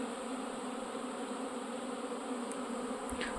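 Honeybees buzzing on their cleansing flight at an apiary in the Low Beskids, a steady dense hum of many insects close by, with no voices.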